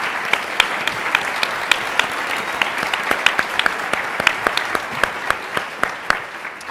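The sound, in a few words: applause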